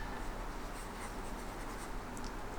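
Marker or chalk scratching across a classroom board, a steady continuous scrawl heard up close with no talking.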